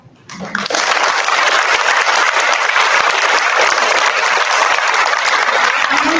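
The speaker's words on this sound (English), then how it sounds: "I want to round of applause for all of our speakers and their original members" An assembly audience breaks into applause for the speakers, starting with a few claps and swelling within a second into loud, dense, sustained clapping that fills the room and continues steadily to the end.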